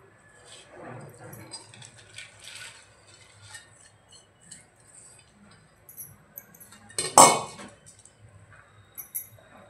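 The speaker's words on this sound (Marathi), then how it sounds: "इथे आपण कुकर घेतलाय, त्यामध्ये आपण मटकी घालूया" Sprouted moth beans and potato pieces go into a pressure cooker, heard as scattered clinks and rattles of utensil on metal with one loud clang near the end, close by amid quiet kitchen sounds.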